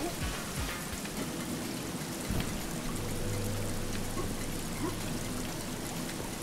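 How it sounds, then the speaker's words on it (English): Waterfall in the video game Guacamelee, a dense continuous rushing roar like heavy rain, with a low synthesized tone entering partway through and brief game noises over it. "because it's water, so we'll need to be jumping through that waterfall"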